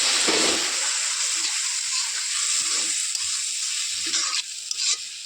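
Paneer frying in a pan with a few cardamom pods, making a loud, continuous close sizzle with occasional stirring scrapes and no talk.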